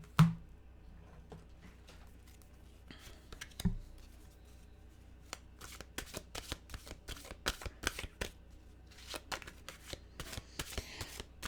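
A deck of mantra cards being shuffled by hand, a steady run of soft riffling and card slaps, close and fairly quiet, after a couple of louder handling knocks at the start.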